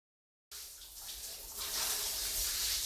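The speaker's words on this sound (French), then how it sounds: "dépêche-toi de prendre ta douche" After a moment of silence a shower starts running, a steady close hiss of spraying water that swells louder and fuller after a second and keeps pouring.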